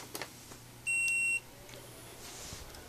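A single short electronic beep from a Sega Dreamcast console powering on, clean and steady for about half a second over quiet room hiss.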